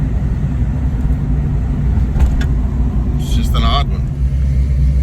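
A 1983 Ford Mustang with a swapped-in EFI setup idles roughly with an odd crank issue, giving a steady low rumble that runs throughout while someone talks over it.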